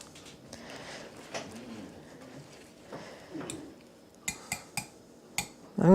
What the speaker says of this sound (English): And with a whisk, we're going to mix it up and see what we have.